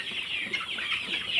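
A flock of 33-day-old Sonali chickens clucks softly and continuously in a poultry shed, with several overlapping bird calls at moderate distance.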